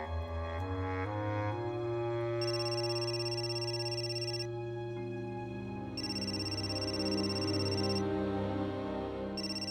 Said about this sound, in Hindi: किशोर, ताई का फोन है।